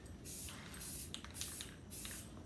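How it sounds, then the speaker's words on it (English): Spray paint goes onto a wheel in light coats: four short, soft hissing bursts in a steady rhythm, close by but quiet, with no voices. "as we spray with spray paint, we're going to do multiple light coats"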